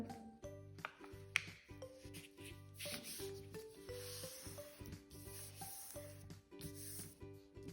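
Sheet of paper being folded in half for an origami boat, soft rubbing and creasing strokes in a steady rhythm, close and quiet, under a soft background tone.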